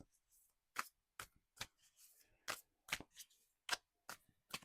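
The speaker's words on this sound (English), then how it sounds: "One more shuffle." Tarot cards are shuffled up close: a quick series of crisp snaps and riffles with short quiet gaps between them.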